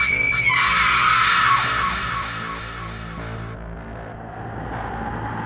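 A loud, shrill scream rings out during a horror story set in a haunted Himalayan valley. It peaks in the first moments, then tapers into a quieter, dark rumbling background.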